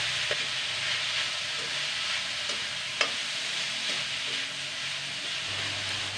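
Sliced green beans sizzle and hiss in a frying pan with chicken and oil, a steady loud frying hiss with a few faint taps and clinks as they are stirred, and no talk.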